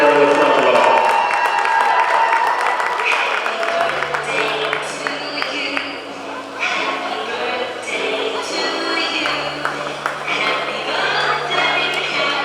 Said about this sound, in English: Please give Jeff a warm round of applause.